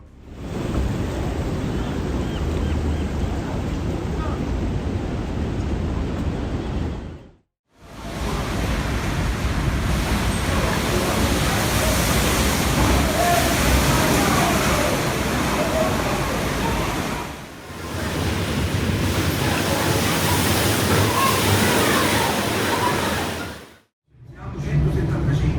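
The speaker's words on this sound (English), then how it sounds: "The Cork pilot boat braved monstrous waves as Storm Ophelia churned the sea into chaos." Monstrous sea waves churned up by Storm Ophelia around a Cork pilot boat: a loud, continuous broadband roar of surf and wind that breaks off briefly in places.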